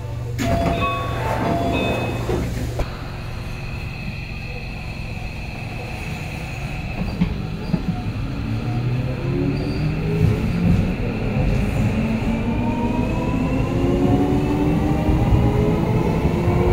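A Keio Line train runs between Shibasaki and Seiseki-Sakuragaoka, giving a loud, steady rumble from inside the car. A rising motor whine builds over the wheel and rail noise.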